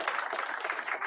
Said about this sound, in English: get ready for wild applause